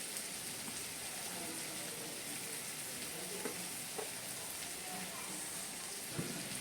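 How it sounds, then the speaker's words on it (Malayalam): Grated coconut is stirred into a tapioca stir-fry in a pan, giving a steady close sizzle of frying with scraping and stirring noises throughout and occasional sharper knocks of a spoon. "ഇനി നമുക്ക് നല്ലതുപോലെ ഒന്ന് ഇളക്കി യോജിപ്പിച്ചെടുക്കണം"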